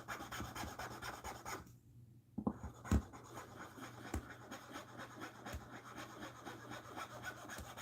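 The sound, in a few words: rubbing smudge off a knife blade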